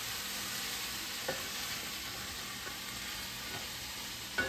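Pork chops sizzle loudly in a hot pan with a constant frying hiss, broken by a few soft knocks and scrapes as they are stirred around.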